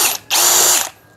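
A cordless brushless impact drill bores into a hard concrete block, giving a loud, harsh mechanical rattle in two bursts: a brief one, a short pause, then a longer steady run that cuts off abruptly.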